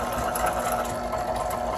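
Stand mixer with whisk attachment running steadily on a homemade dry dog food mixture in a kitchen, a constant motor whir with faint rattling throughout.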